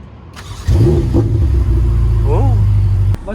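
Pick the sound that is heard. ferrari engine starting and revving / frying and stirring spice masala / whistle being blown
ferrari engine starting and revving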